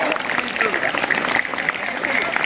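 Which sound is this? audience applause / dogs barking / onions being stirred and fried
audience applause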